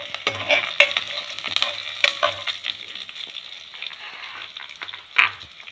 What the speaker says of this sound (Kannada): ಇವಾಗ ಕರಿಬೇವು ಹಾಕ್ಕೊತಾ ಇದ್ದೀನಿ